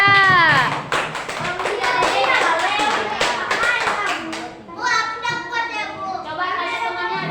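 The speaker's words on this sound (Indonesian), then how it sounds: "tepuk tangan untuk kelompok 3" A group of schoolchildren in a classroom claps for group 3, a burst of quick, close clapping that thins out after a few seconds while children's voices and chatter carry on over and after it.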